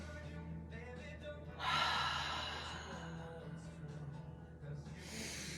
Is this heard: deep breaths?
yes